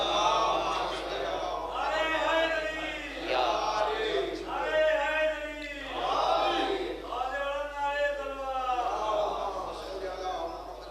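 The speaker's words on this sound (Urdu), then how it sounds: "ایک اور باواز بلند نعرے صلوات پڑھ دے" A mourning majlis congregation chanting salawat together, a loud crowd of voices rising and falling in several long waves of unison chanting.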